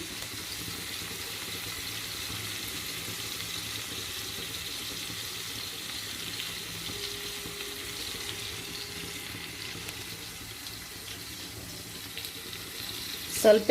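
Water runs steadily in a thin, continuous stream for several seconds into dough, a soft even trickle with a small clatter right at the end.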